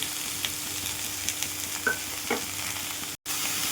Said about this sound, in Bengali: সবজিটা ভালো করে ভেজে নেব।